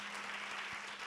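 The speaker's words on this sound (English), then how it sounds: "give an applause to these two young people who are in the video" An audience at a world premiere film screening claps in a steady, dense burst of applause filling the short moment, with no voices over it.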